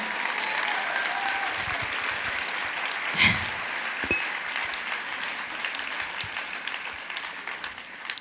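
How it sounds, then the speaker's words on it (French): Steady applause from an audience, a continuous patter of many hands clapping throughout, with no talking over it. "je voudrais que vous l'applaudissiez"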